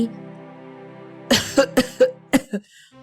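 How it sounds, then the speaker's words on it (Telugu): A woman coughs severely in the middle of the night, with a run of about six harsh, loud coughs in quick succession after a quieter stretch of voiced sound. "తీవ్రమైన దగ్గుతో గొంతు ఇబ్బందితో"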